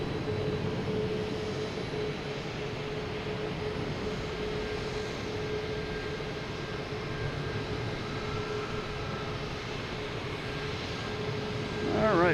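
A Southwest airliner at Boston Logan airport makes a steady, broad jet-engine roar that holds evenly throughout and swells slightly at the very end.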